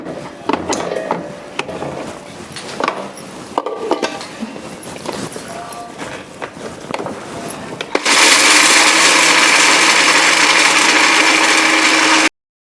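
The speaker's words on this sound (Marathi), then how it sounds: "हे आपल्याला सगळं मिक्सरला बारीक करून घ्यायचं आहे।" A kitchen mixer grinder whirs loudly and continuously from about eight seconds, grinding dry coconut with garlic, cumin, chilli powder and salt into chutney, after earlier clinks and handling sounds of ingredients being added.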